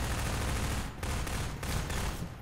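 Gunfire in the Minerva Metastasis video game, rapid repeated shots forming a loud continuous fusillade with a few brief gaps between bursts.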